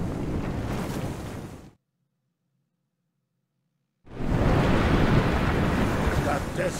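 Stormy sea surf and howling wind from the video game A Juggler's Tale roar as a loud, dense wash that cuts to silence for a couple of seconds, then returns at full force.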